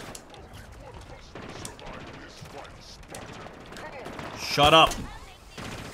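Bursts of automatic and single gunfire in Halo Infinite crackle in a rapid broken rhythm, with one louder blast near the end, while a person speaks briefly over the shooting.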